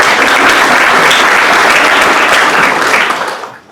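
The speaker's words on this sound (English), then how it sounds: "Please help me in joining in a round of applause." Full, loud applause from the audience at a Rotary club meeting holds steady for about three seconds and then quickly dies away to quiet.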